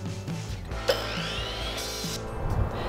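A handsaw cuts a 24-inch wooden leg support for a farmhouse trestle table, giving a steady rasping stroke with a sharper knock near the start, close and continuous for about three seconds.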